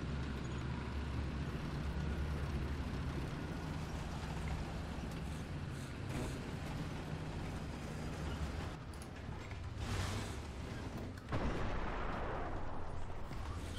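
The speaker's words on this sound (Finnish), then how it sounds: "Bradley ampui se." A Bradley vehicle firing in War Thunder: steady engine rumble under a run of distant cannon reports that sharpen into louder bursts near the end, with no talk.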